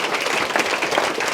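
An audience at an education forum in Seoul gives dense, continuous applause that fills the room evenly, with no single clap standing out.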